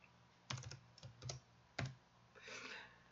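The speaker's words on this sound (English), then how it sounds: "I'm going to start typing a new element by opening up the bracket" Fingers tapping on a computer keyboard in short bursts of clicky keystrokes, with brief pauses between the clusters and soft room noise, no talking.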